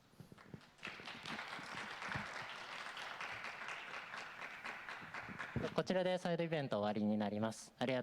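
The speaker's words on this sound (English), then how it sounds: "Please clap your hands." Applause from the audience at the close of a conference side event on social impact bonds, a dense patter of clapping that runs steadily for several seconds before a voice comes in over it.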